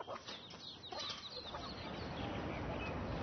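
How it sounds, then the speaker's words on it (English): Chickens cluck at feeding time at a riding centre in Africa at dawn, with scattered close clucks and calls over a faint steady background. "his first job is to feed the chickens"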